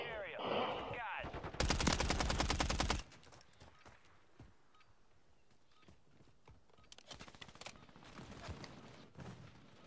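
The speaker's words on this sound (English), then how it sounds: "Who's shooting at me?" Gunfire in Call of Duty on Rebirth Island: a close, loud automatic burst comes early, then quieter scattered shots and footsteps follow.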